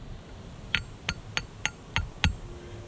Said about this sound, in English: Using an iron bar, this happens to be a chisel.